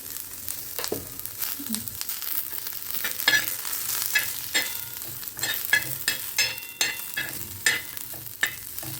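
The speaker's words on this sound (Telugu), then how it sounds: "ఇక లాస్ట్లో అయితే జీలకర్ర వేసుకుంటున్నా" Cumin seeds tempering in hot oil on a stove, giving a steady sizzle with scattered crackles and pops and occasional stirring clinks, close and fairly loud, with no talk.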